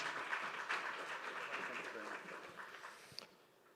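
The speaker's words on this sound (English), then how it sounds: "Warm round of applause for Olivier." Applause from a conference audience welcoming a speaker to the stage, a faint, dense patter of clapping that slowly fades away over a few seconds.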